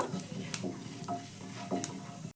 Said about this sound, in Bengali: এবার তেলটা গরম হয়ে যেতে আমি মৌরি আর গোটা জিরে ফোড়ন হিসেবে দিয়ে দিলাম